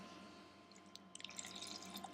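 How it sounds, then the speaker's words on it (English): Brown liquor poured into a glass with ice gives soft trickling and dripping with a few faint clinks, quiet and close, building slightly toward the end. "I'm gonna pour a little something"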